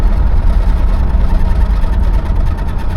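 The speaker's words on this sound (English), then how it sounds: "Giving it a little bit of gas. This motor does not want to get up to speed fast" A 1989 Cadillac Brougham's engine, heard from inside the car, rumbles low and steady as gas is applied, rising only slightly and sluggishly, with no talking over it.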